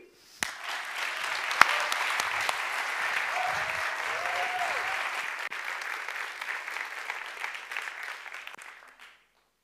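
Sustained audience applause at a TEDx event fills the room, steady and loud for several seconds before tapering off abruptly, with a few brief murmurs beneath.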